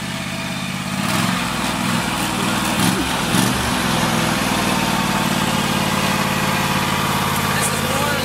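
An old Rolls Royce lawn mower engine runs at a steady fast idle, close and loud, with a brief uneven rev near the start, while people talk over it.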